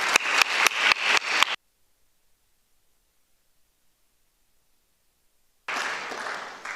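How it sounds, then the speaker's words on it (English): Audience applause for volunteers at a sustainable journalism forum, a dense clapping burst for about a second and a half, then silence, then a renewed wash of clapping near the end. "we can applaud and thank you all."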